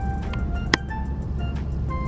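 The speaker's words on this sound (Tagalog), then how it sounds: "Tingnan nyo, ang traffic talaga, oh." Road traffic crawling past road works on the way into Adelaide, a steady low rumble of nearby vehicles with a brief sharper transient and faint tonal whines over it, no talking.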